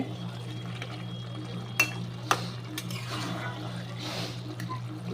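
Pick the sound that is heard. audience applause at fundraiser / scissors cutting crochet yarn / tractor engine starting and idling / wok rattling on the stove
wok rattling on the stove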